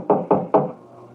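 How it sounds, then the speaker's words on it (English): Three firm knocks on a wooden door, evenly spaced and close, form a radio drama sound effect, followed by a quiet room tone. "there was a knock on the door"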